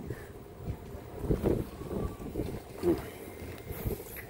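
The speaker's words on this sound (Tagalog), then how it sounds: "Kasi mahangin, nasa rooftop kami." Gusty wind buffets the microphone on a rooftop, rising in low rumbling surges at a moderate level with faint background noise between gusts.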